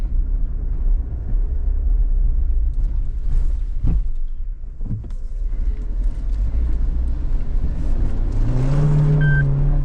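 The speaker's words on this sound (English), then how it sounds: "We'll hit this mud bog hole down here." Suzuki Jimny XL 5-door in four-wheel drive ploughing through a mud bog hole, a steady loud engine rumble with brief surges, rising into a revving push near the end, with no talk.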